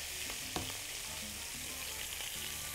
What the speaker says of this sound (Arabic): ونشوحهم كده مع اللحمه